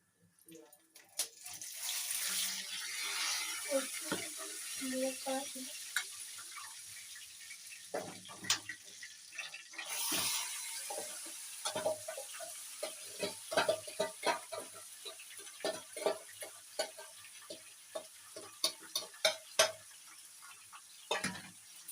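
Chicken pieces sautéing for biryani in a pan over a full flame, a steady sizzle with scattered ticks and scrapes from stirring, moderately close, with a voice talking over parts of it.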